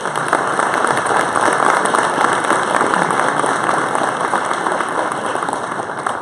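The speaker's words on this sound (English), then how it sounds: "Please, a round of applause for our panelists." Conference audience claps for departing panelists after a consulting-industry blockchain session, a dense, even round of applause lasting several seconds and gradually softening toward the end.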